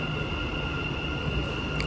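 A metro train rumbles into a Dubai station, a loud, steady mechanical roar with a sustained high whine over it and no voices.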